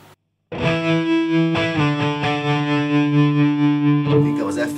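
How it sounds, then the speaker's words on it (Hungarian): An electric guitar rings through a multi-effect unit's tremolo, its sustained chord pulsing in quick, even volume waves after a brief silence. "Ez például egy tremolós hangszín."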